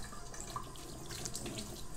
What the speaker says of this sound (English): So I'm just going to open up the tap.